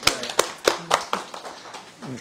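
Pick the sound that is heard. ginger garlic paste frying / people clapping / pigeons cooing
people clapping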